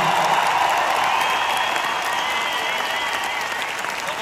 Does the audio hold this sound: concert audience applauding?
yes